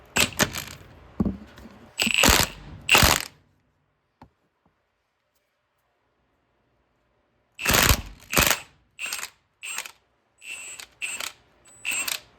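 Metal tool clicks and scrapes while a dirty pipe plug is worked out of a Coleman trailer axle hub, short sharp bursts near the microphone, a long quiet gap, then a rapid series of clicks.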